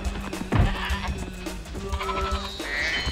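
A goat in the video game Spyro 2: Ripto's Rage bleats in a couple of short, nasal cries over busy game sounds and background music.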